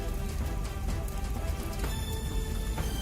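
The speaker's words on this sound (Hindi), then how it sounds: "होटल में आग लगते ही बारिश हो गई" Rain falls on a burning hotel, a steady close patter of drops with scattered sharper taps throughout, no voices.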